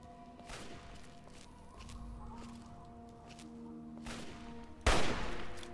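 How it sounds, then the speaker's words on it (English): Gunshots fired at the player in Fallout 3, a few scattered sharp cracks over a quiet ambient backdrop, with one louder, closer shot near the end. "All those shots at me."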